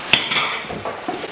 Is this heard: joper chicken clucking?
no